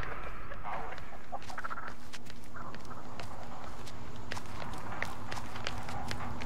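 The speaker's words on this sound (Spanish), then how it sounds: "No, cállate, gallina idiota." A chicken clucks repeatedly in The Texas Chain Saw Massacre video game, mixed with hurried footsteps and running sounds.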